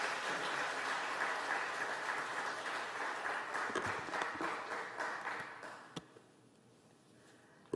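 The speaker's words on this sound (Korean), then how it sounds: "우리 크게 박수로 환영할까요?" A church congregation applauds steadily and warmly for several seconds to welcome a guest speaker, and the clapping then thins out and fades into quiet.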